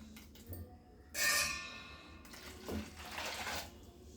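Water pours briefly with a bright splashing rush, then a softer trickle follows after a short pause, close by and fairly quiet, as water is added to ground bitter gourd and gooseberry for juice.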